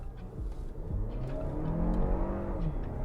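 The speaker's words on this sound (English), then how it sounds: "that gear lasted quite a while, but we did hear a couple of shifts in there" A 2024 Lexus TX accelerates hard with the throttle floored, its engine note climbing steadily and loudly through a long gear before a couple of brief shifts, heard from inside the cabin with no talking.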